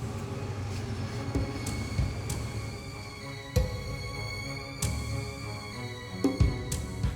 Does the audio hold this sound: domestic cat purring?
no